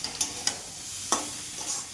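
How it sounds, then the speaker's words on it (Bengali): Soft frying sizzle of pointed gourd and potato cooking in spices, with a few sharp scraping clicks as a spatula stirs the pan, close up. "মশলাটা এভাবে কষাতে থাকবো আর পটল আলুটি আস্তে আস্তে মশলার সঙ্গে মিশে যাবে"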